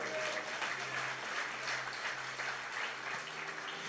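Church congregation applauding strongly for the Lord, a steady wash of clapping with a low sustained tone beneath, continuous and fairly loud throughout.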